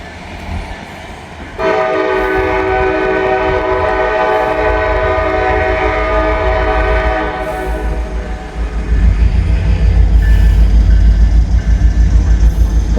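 Freight train on the B&O line passing a railroad crossing, with a long loud horn blast over rumbling wheels, then heavy close rolling and clatter of cars going by.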